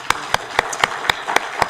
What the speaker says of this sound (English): join me in giving her a round of applause